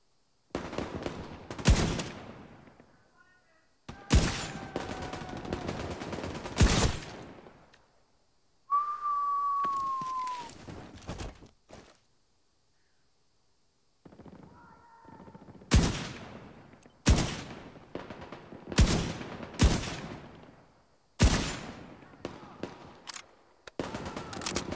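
Gunfire in The Division 2 comes in sharp bursts of automatic shots, spaced apart with quiet gaps, plus a brief whistling tone in the middle; faint voice chat sits underneath.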